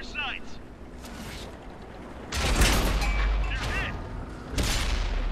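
Tank cannon shots in World of Tanks with an M4A2E4, two heavy booming blasts with rumbling tails over battle ambience, while someone talks over the action.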